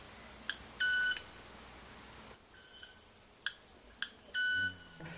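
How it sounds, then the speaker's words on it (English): A manakin-type bird snaps and rubs its wing feathers together over its back, giving faint clicks followed by a bright, tonal buzzing 'wang' that repeats twice against quiet forest background, with no talking. "an electronical sound that sounds like pick, pick, wang"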